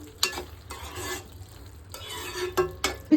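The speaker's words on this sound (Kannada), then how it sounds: "ಇದನ್ನು ಆಫ್ ಮಾಡಿಕೊಂಡು ನೀಟಾಗಿ ಇವಾಗ ಮಿಕ್ಸ್ ಮಾಡ್ಕೊಳ್ಳೋಣ" Okra gravy made with coconut milk is stirred in a pan off the heat, giving close, soft scraping and sloshing strokes with a few sharper clinks of the spoon against the pan's rim, with no talking.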